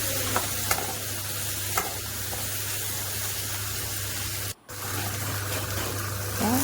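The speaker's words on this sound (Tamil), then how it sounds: "உப்பு சேர்த்து நல்லா கலந்து விட்டுக்கலாம்." Kerala-style crab gravy being stirred with salt in a pan, a steady close-up hiss and scrape of spoon through the bubbling mixture, broken by one brief silent gap midway.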